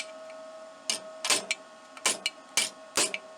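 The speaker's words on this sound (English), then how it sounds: "I'm simply peening over that extra flange material to seal up the muffler again" Hammer peening the flange of a Stihl 039 chainsaw muffler held in a vise, giving sharp metallic strikes in an uneven rhythm, about eight blows with short ringing tails, fairly close and alone over a faint steady hum.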